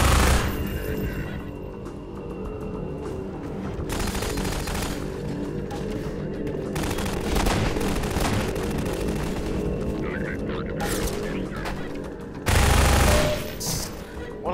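Bursts of automatic gunfire in Half-Life 2, rapid rattling volleys fired to break open a box, loud and sustained across the clip with brief pauses and a heavy boom near the end.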